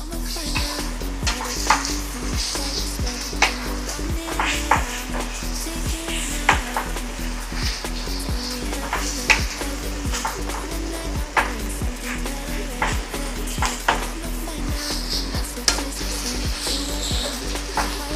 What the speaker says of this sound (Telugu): ఇప్పుడు 2 స్పూన్ల అల్లం వెల్లుల్లి పేస్ట్ వేస్తున్నా. ఇది పచ్చివాసన పోయేంత వరకు ఫ్రై చేయాలి.